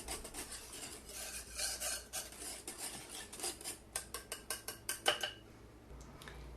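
A small whisk scrapes and taps against a bowl while mixing brioche dough ingredients, starting as irregular rubbing and turning into a quick run of rhythmic clicking strokes, fairly quiet and close.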